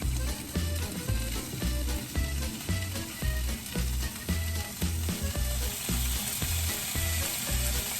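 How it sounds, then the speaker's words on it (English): Bacon frying in hot grease with a steady, dense crackle and rapid popping that runs the whole time, close and fairly loud, with a low repeating rumble underneath. "cooking bacon, just be ready to be attacked by bacon"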